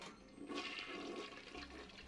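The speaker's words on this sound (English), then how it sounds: "So, flush every toilet." A household toilet flushes, a faint whooshing rush of water swelling and gurgling steadily over a couple of seconds.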